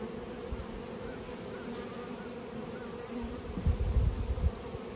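A dense, steady drone of many honeybees buzzing close by at an open hive, with a few louder low hums swelling near the end.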